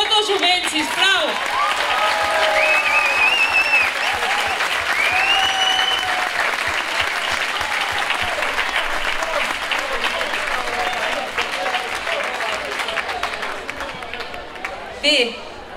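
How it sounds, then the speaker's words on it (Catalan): A crowd at the Anglès 2015 ceremony proclaiming the hereu and pubilla claps loudly and steadily for the young people, with scattered voices and whistles over the sustained applause. "Un fort aplaudiment per tot el jovent, sisplau."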